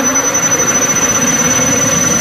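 A faulty motorcycle stator spun up on a test rig gives a loud, steady mechanical whir with a constant high-pitched whine running through it, without pause.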